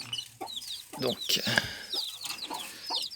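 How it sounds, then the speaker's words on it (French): Farm hen and rooster of the froment breed clucking close by in irregular bursts, with a voice briefly speaking over them. "Dans les froments, il y a une poule ici et un coq"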